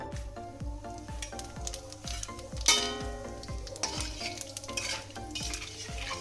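Whole spices for a papaya kofta curry tempering: two bay leaves, two dried red chillies, cumin seeds, a cardamom, a piece of cinnamon and a clove sizzle in hot oil, with steady frying crackle and repeated stirring clinks of a spoon against the pan.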